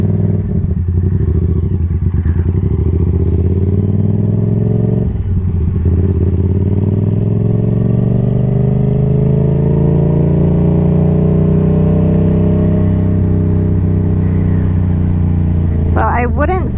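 A Yamaha XSR700 motorcycle cruises with a steady engine drone that dips and rises as the rider shifts through stiff gears. Wind buffets the mic and a rider talks over the engine.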